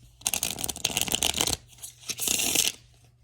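A deck of playing cards being shuffled at close range, two bursts of rapid riffling flutter separated by a short pause, loud and alone with no talking.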